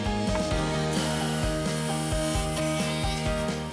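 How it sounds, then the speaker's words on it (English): Milling machine cutting lock, cylinder and handle holes into an aluminium sliding-door leaf profile, a steady whirring hum with rhythmic rasping cuts pulsing roughly twice a second, close and continuous. "The milling machine creates the holes for the lock, the cylinder and the handle in the leaf profile."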